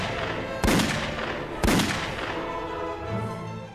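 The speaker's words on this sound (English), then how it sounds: "Shattered by the sound of gunfire echoing throughout the vast space." Two sharp gunshots ring out about a second apart in St. Peter's Square, each cracking loud and then echoing long across the vast open space before fading into the murmur of the crowd.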